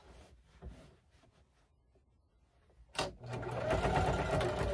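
A sewing machine starts up after a quiet pause with light handling clicks, then runs steadily, stitching fabric with a loud rapid whirring hum close by.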